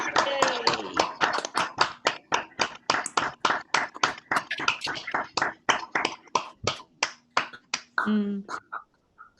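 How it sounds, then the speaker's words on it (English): A single set of hands claps in a steady, even rhythm, close and crisp, ending with a brief voice. "We could just have a big round of applause for everyone."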